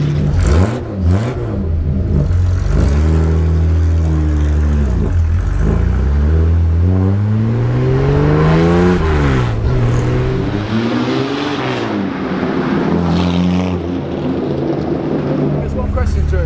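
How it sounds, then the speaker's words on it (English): A loud Salvadori XK120 classic sports car engine revs up and down repeatedly at close range while cruising in London, rising and falling in pitch, with people talking over it. "This car is so amazing and it is so loud."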